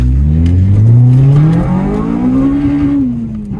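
A 250bhp Honda Civic Type R EP3 accelerates hard, its engine note loud and close, climbing steadily in pitch over a few seconds before easing off near the end.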